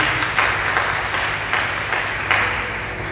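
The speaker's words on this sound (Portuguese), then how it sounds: "Quantos podem aplaudir Jesus nesse momento?" A church congregation claps in praise of Jesus, a dense, steady round of applause filling the room for about three seconds with a few louder bursts.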